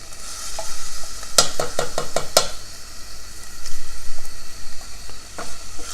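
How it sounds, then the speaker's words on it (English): Tomato sauce hitting a hot pan with a steady sizzle, several sharp clinks of a utensil against the pan, then stirring scrapes. "And then I'm going to add the tomato sauce."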